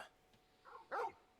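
A lone dog in Final Fantasy XVI gives a single short, close bark after a softer whine-like yip, set against quiet game ambience.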